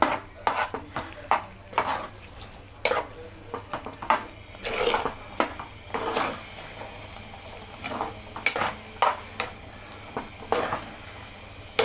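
A spoon stirs sesame flour paste into a garlic curry in a pot, making repeated scrapes and light clinks against the pot in irregular strokes, moderately close, with no talking.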